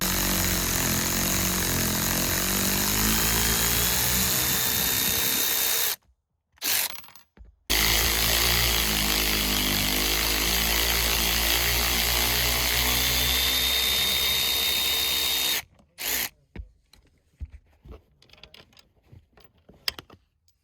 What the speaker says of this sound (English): you have to remove these two T50 Torx bolts.